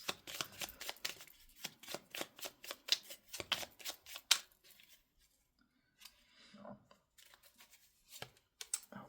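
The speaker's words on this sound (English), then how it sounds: "I'll pull a timing card for you." Tarot cards are shuffled in quick riffling bursts of papery slaps and flicks, close and fairly quiet. After a pause, softer rustles follow as a card is pulled, then a few final taps.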